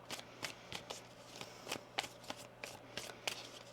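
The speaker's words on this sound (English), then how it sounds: "One more shuffle here." Tarot cards being shuffled by hand in a steady series of crisp riffling bursts, close and fairly quiet, with no talking.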